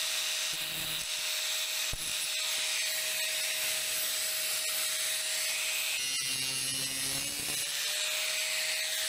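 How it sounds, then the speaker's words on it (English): An angle grinder cuts metal on a rusted ATV gear lever, giving a loud, sustained hiss with a steady whine. The sound barely varies in level and shifts slightly in pitch partway through the cut. "I found this angle grinder tool which should do the job. Cut that there, weld that on"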